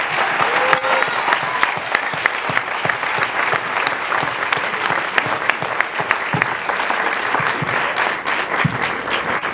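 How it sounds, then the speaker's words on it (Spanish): Loud, sustained applause from an audience at the Mexican premiere of Jodorowsky's film La danza de la realidad, dense clapping filling the room steadily throughout with no talk over it. "recibamos al maestro Jodorowsky con un aplauso"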